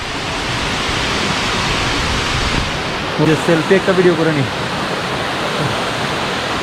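Steady, loud rushing water of a waterfall in Cherrapunji roars throughout, with a brief burst of voices talking over it near the middle.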